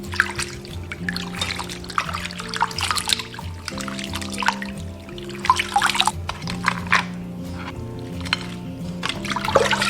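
Clams, prawns, a yellow croaker and another cleaned fish are rinsed in running water in a home kitchen, giving a steady light trickle and splash under background music.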